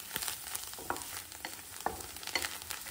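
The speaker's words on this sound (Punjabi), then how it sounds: "ਚਾਰ ਤੋਂ ਪੰਜ ਮਿੰਟ ਤੱਕ ਆਪਾਂ ਮੇਥੀ ਨੂੰ ਪਕਾਉਣਾ ਆ। ਮੇਥੀ ਦੇ ਵਿੱਚ ਕੁੜੱਤਣ ਹੁੰਦੀ ਆ ਜਿਹੜੀ, ਉਹ ਭੁੰਨਣ ਦੇ ਨਾਲ ਖਤਮ ਹੋ ਜਾਊਗੀ।" Fenugreek leaves (methi) roast in a pan for a dhaba-style methi matar malai, giving a soft continuous sizzle broken by light scraping stirs and spatula taps, fairly quiet with no voices.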